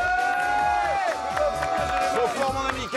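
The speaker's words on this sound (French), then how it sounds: "Applaudissements pour la palette." Volunteers repairing a family farm cheer and whoop with some clapping, lively overlapping shouts and voices over a busy, loud outdoor background.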